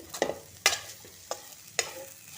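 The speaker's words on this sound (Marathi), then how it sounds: "आता हे ओलं खोबरं घालायचं एक दोन मिनटं परतून घ्यायची" Fresh grated coconut being sautéed in a pan for a wild-vine vegetable dish, heard as a few sharp scraping stirs and brief sizzles at uneven intervals, close and moderately loud with no talking.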